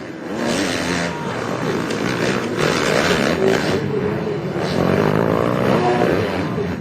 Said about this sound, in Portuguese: Aí você vê a moto 891 do Gustavo Pessoa